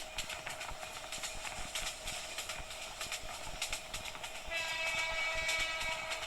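A train horn sounds in the Train Simulator Bangladesh game, a steady sustained blare over continuous rail rumble and clatter at speed, with the tone holding throughout and swelling slightly toward the end, no voices.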